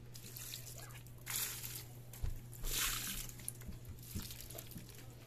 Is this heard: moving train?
no